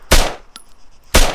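Two loud, sharp bursts of gunfire from the ARMA 3 military shooter game, each a broadband blast with a short decaying tail, separated by about a second of quiet with a faint clink between them.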